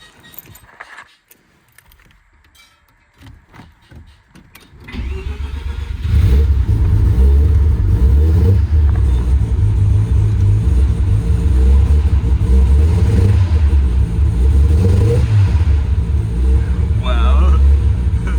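Keys jangle briefly before a freshly restored Mazda FC RX7 with a quiet exhaust fires up and settles into a loud, close, steady running note with light revving.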